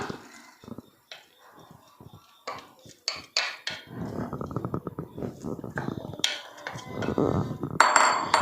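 Dark chocolate compound being stirred into milk in a pan, with a utensil scraping and clinking against the metal in uneven bursts, close and moderately loud, while someone speaks over it.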